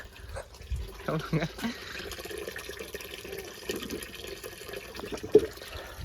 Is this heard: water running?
yes